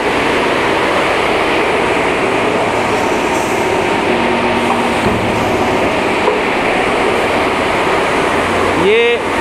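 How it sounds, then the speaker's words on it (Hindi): A marble polishing machine's motor runs with a loud, steady broadband whir and grinding hiss throughout, with faint voices in the background and a brief rising whine near the end. "ये मशीन से इसकी इस तरह पॉलिश करते हैं"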